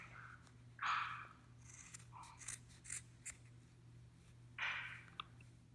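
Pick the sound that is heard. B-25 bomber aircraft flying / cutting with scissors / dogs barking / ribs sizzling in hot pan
cutting with scissors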